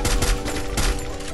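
Rapid gunshots from the mobile shooter Free Fire, a loud, dense, continuous burst with several sharper cracks throughout.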